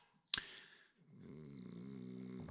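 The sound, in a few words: character snoring in the video game Dordogne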